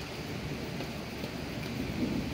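Rain falls steadily in a thunderstorm, a dense broadband hiss with a low rumbling undertone, fairly faint and unbroken for the whole stretch, with no voices.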